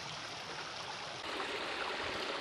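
A small moorland stream near Crowden flows with a steady, close, hissing rush of water that swells slightly partway through, with no voices.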